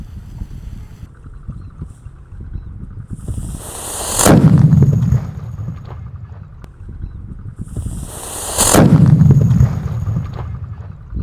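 A large Scream firecracker hisses briefly then bursts with a loud, booming blast, followed by a second hiss and booming explosion; both close and echoing.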